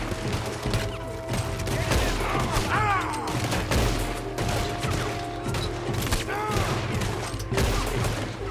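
Sustained gunfire rattles through a Red Dead Redemption 2 mission, repeated shots and mechanical clacks layered over a steady game soundscape at moderate loudness.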